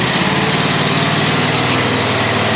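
A leaf blower's small engine runs at a constant high-pitched roar, loud and close. It continues unbroken through the whole stretch, with no talking over it.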